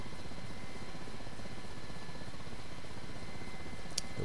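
Steady low rotor thump and turbine drone of an Mi-8 helicopter in the DCS flight simulator, continuous and even throughout with a brief high click near the end.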